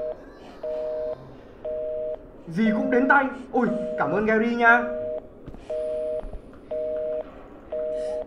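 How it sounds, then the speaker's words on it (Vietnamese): A phone rings in the horror video game Exanimum: The Silent Call, an electronic two-tone ring repeating in steady short bursts while a person speaks over the middle of it. "Anh ơi, điện thoại của anh hay sao ấy?"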